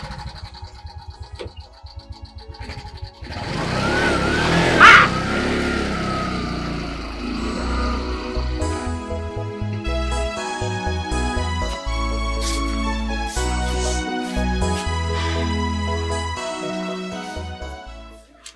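An engine comes in after a quiet start and runs loud and steady as the vehicle drives off, with a sharp peak near the start, under a layer of dramatic music.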